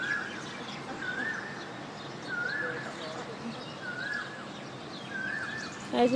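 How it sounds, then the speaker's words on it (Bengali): Repeated short chirping calls of house sparrows come in bursts about every second or so, moderately near, over steady outdoor morning background noise. "ওই যে ওইখানে কতগুলো চড়ুই পাখি কিছুই মিচির করতেছে"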